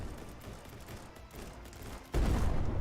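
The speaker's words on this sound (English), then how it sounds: "Oh no, here comes the blast." In the video game Ancient Warfare 3, a ship comes under bombardment and a blast hits with a sudden loud boom near the end, after a stretch of low crackling battle noise.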